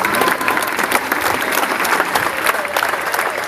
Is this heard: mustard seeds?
no